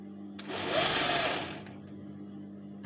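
A sewing machine runs a straight seam on fabric while attaching galloon trim, giving a short, steady whirring burst of stitching about a second long, fairly quiet and alone, before it stops.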